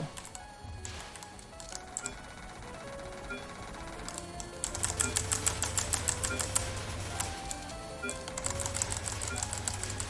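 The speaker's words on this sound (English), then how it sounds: "Keyboard ASMR." Computer keyboard typing during a Touhou game run, quiet at first, then bursts of rapid, crisp key clicks over faint looping game music and electronic tones.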